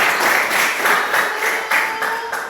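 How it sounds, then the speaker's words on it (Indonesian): Children in a classroom clap their hands together in a brisk, steady burst of rhythmic claps, close and fairly loud, with no talking over it. "Silakan tepuk tangan."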